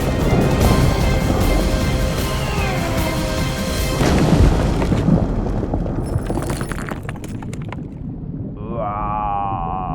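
A large rock crashes down in an animated cartoon, a loud heavy rumbling impact with crumbling debris over dense music and effects, fading into a lighter whistling tone at the end.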